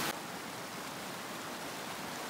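A mountain creek near Fiddle Pass in Jasper National Park rushes over rocks, a steady, even hiss of flowing water at a fairly soft level, with no voices.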